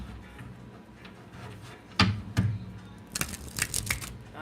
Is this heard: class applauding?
no